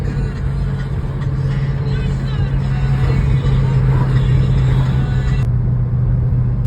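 Shelby GT500 car out on a test drive after a shifter installation, a constant low engine and road rumble heard from inside the cabin, loud and steady, with some voices in the background.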